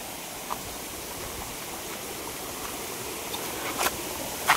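Waterfall near a dam, a steady broadband rush of falling water heard from a short distance, with a few faint clicks and knocks over it.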